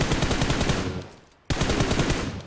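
Automatic rifle fire sprayed in PUBG Mobile, loud rapid bursts of shots that stop briefly mid-way and then resume at full intensity.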